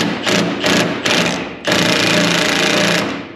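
An impact wrench works on a Land Rover Series 2A engine, firing in short loud rattling bursts, then one longer sustained hammering run, close and harsh.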